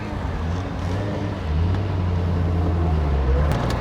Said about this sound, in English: today's the first time I drove my Corvette, my 95 Corvette without the top.